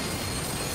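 A train in the video game Battlefield 3 rushes past in a dense, loud roar of rolling wheels and rumbling noise, filling the whole moment without pause.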